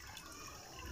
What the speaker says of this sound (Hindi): तो ऐड कर देंगे इसके अंदर पानी